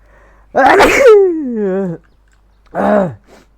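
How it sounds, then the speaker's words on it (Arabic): A single loud, close human sneeze, followed by a drawn-out groaning vocal tail and a shorter second vocal burst after a pause. "في عطسة."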